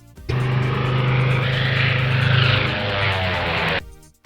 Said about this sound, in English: biplane